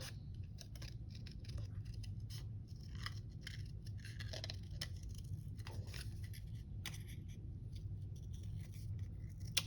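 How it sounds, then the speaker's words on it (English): Scissors free-cutting a stamped paper piece for a panoramic fun fold card: soft, steady snipping and paper rustle running throughout, close and faint over a constant low hum. "I'm going to go ahead and just free cut this"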